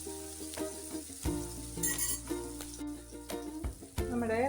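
Tomatoes frying in a pan for a cashew curry, a steady sizzle with occasional clinks and stirring scrapes, close and fairly loud, with no talking.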